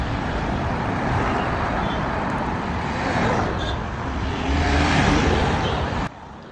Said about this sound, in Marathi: रॅलीत एवढ्या गाड्या येत होत्या